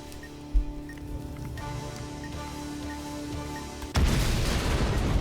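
A bomb goes off in the video game Keep Talking and Nobody Explodes: a quiet hum with a small early pop, then a sudden loud blast that rolls into sustained crackling rumble to the end.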